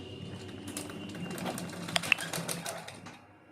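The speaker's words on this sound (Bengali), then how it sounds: "সেলাই দিতে থাকবো" Sewing machine stitching fabric onto the front of a blouse, with soft rapid mechanical ticking and a couple of sharp clicks, fairly quiet and close, tapering off toward the end.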